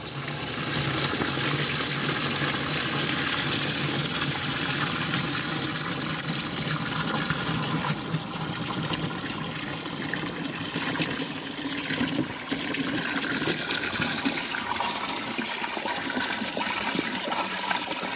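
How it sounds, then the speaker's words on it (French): Water flows abundantly in a steady, loud, continuous gush that lasts the whole stretch without letting up, with no voices over it. "l'eau coule à flot"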